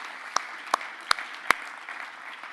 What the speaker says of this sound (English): big round of applause for our investors